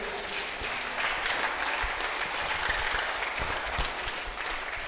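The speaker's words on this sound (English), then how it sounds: "Did you see the clapping?" A church congregation clapping together, a dense, steady patter of many hands at moderate level, continuous from start to finish with no voices over it.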